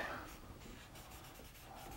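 A paper stump rubs over a pencil drawing to blend the shading, a soft, close scratchy rubbing that continues steadily and quietly, with no talk.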